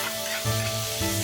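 Fermented black beans and chili bean paste frying in a little oil in a wok with ginger and scallion, a dense close hiss with a brief louder burst midway, no voices.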